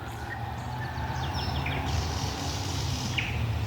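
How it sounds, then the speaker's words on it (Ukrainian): Birds sing near an outdoor rose garden, a scatter of short chirps and quick trills over a constant low background rumble, with no talking. "Такий спів пташок."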